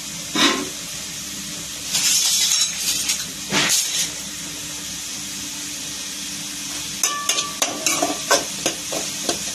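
Fennel seeds and cardamom hit hot oil in a pan with onion, curry leaves and green chili, giving short bursts of sizzle and spoon clatter, then a run of quick scraping stirs near the end.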